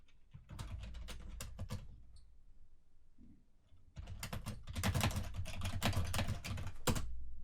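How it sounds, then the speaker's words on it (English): Fingers type a sentence on a computer keyboard, a close, steady patter of key clicks in two bursts separated by a short pause, the second run denser and louder, with no voices. "I'm going to type a sentence."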